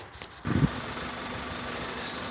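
A 1995 VW T4 Transporter 1.9 TD diesel engine from a scrapped van cranks with a brief heavy burst, then settles into a steady running rumble with a faint high whine, up close.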